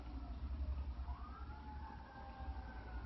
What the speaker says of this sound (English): It's bizarre as hell when you hear that fire engine in southern Louisiana.